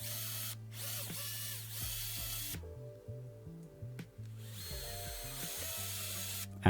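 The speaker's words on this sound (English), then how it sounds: "Again, drilling pilot holes." A power drill bores pilot holes in wood while a workbench bench hook is built. The motor whines loudly in sustained bursts, stops briefly with a pitch drop, then spins up again close by.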